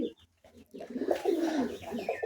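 Pigeons on a pigeon farm coo in soft, throaty, repeated calls that grow fuller after a brief quiet gap and carry on close by.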